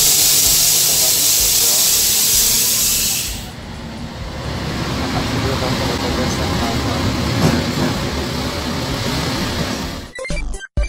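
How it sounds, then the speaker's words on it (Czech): Steam hisses loudly from a train at a station just after arrival, a broad continuous rush for several seconds that then drops into lower rumbling platform noise with some background voices, ending in a few abrupt knocks. "vystoupili jsme z vlaku"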